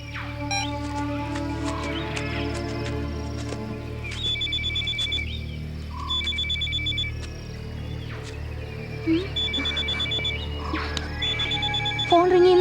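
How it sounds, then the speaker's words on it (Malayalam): A phone rings in repeated electronic trills over a steady low hum in a scene from a Malayalam action film. The bursts return in two clear groups. "ഫോൺ റിങ് ചെയ്യുന്ന സൗണ്ട് കേട്ടോ"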